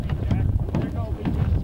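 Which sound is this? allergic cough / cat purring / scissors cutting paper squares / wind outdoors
wind outdoors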